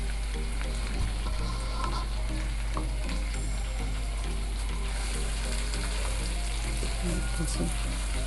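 Chopped green chillies added to a lemon chicken gravy in a pan, a steady close sizzle and bubbling with occasional stirring clinks throughout.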